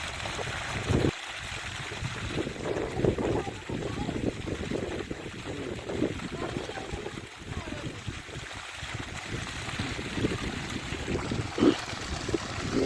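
Water rushes and splashes steadily into a farm field, with continuous turbulent flow close by and a few louder surges.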